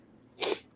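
A single sharp sneeze bursts out loudly, lasting a fraction of a second, against a quiet background.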